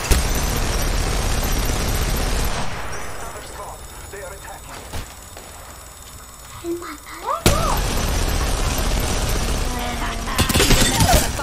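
Bursts of gunfire in Apex Legends crackle loudly at the start and end, with a quieter stretch of faint shots and effects between.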